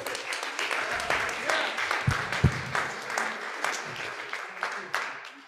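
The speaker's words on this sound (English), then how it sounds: "Let's give them another cheer." Crowd at a meeting applauding and cheering, a continuous wash of clapping with a few louder thumps and voices scattered through it, moderately loud.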